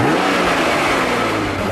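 A 2004 Acura NSX's mid-engine VTEC six-cylinder revs loudly and steadily, a close, continuous engine roar holding through the short moment with no voices.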